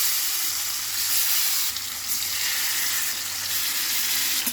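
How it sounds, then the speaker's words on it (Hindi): Fish frying in hot mustard oil in a pan sends up a steady, dense sizzle that holds evenly throughout, with no voices. "तेल गरम हो जाए तो इसमें हम डालेंगे मछली।"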